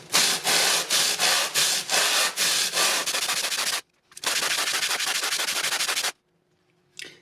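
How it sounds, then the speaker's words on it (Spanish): A sharpening stone is rubbed back and forth on coarse 60 to 80 grit sandpaper to flatten it, giving loud, rhythmic gritty scraping strokes in two long bursts with a short pause between, then a final brief stroke. "Para recuperar nuestra piedra vamos a utilizar una lija de grano 60 o 80, algún grano grueso"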